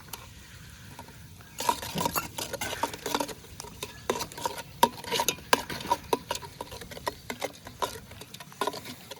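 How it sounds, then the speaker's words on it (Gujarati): Chillies stirred and fried in a pan for a Kathiawadi-style whole-garlic curry cooked at a farm: a steady oil sizzle with a busy run of scraping and clinking spoon strokes, close and fairly loud, with no talking. "મિત્રો આપણે મરચાં નાખી દઈએ હવે."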